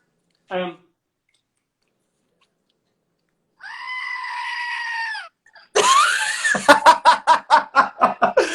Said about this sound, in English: Don't discount your screaming goat.